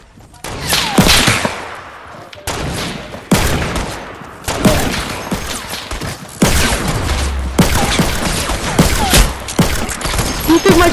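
Fortnite gunfire, loud and close: repeated sharp shots and rapid bursts in clusters separated by brief gaps, with a boomy low thump partway through.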